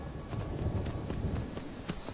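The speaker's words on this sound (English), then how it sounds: "Oh, horses" Horse hooves in the video game Skyrim, a soft, steady clip-clop of several footfalls in an even walking rhythm, moderately near and alone with faint wind-like ambience.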